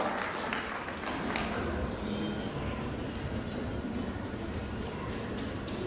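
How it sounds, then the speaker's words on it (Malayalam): Applause from an audience at a Lions Club gathering in Vannappuram Town forms a steady, dense patter of many hands clapping, moderately loud and sustained through the whole stretch. "എല്ലാവർക്കും നിറഞ്ഞ കൈയടികളോടെ ഈ നിമിഷം സന്തോഷകരമാക്കി തീർക്കാം."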